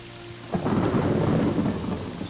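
Steady rain pours in the game Morrowind, with a low roll of thunder swelling in and rumbling for a couple of seconds over the downpour, no voices present.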